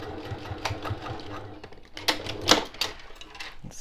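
Sewing machine finishing the seams on a boxed zipper pouch with French seams, a close mechanical whirr with rapid stitching pulses and a few sharper clicks near the end, with some background noise alongside.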